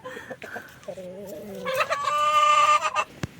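Chickens cluck in short bursts, then a rooster lets out a loud, drawn-out crow close by.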